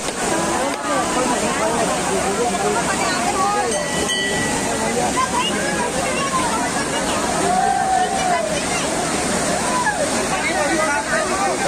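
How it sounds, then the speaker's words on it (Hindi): Steady rushing roar of the Ghatarani waterfall in Gariaband during the rainy season fills the scene, with voices chattering faintly underneath throughout. "अभी दिखाने वाला हूँ झरना"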